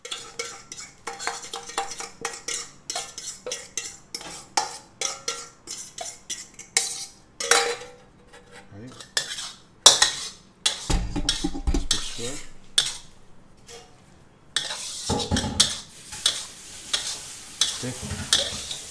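Carbonara pasta with egg mixture stirred in a wok off the heat, with repeated utensil clinks and scrapes against the metal and a soft sizzle, busy at first with a short lull near the middle.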